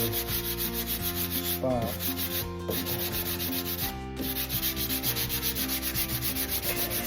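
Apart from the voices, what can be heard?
sanding a car body dent with sandpaper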